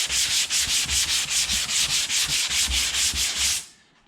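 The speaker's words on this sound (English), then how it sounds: "The idea is you want to sand all that guide coat off" Rhythmic back-and-forth sanding strokes scrub guide coat off a car body panel, about five strokes per second, close and steady for several seconds before stopping abruptly.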